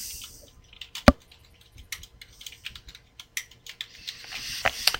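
A user password typed on a computer keyboard, close-up: a short burst of light, irregular keystrokes with one sharper clack near the start, and no talking.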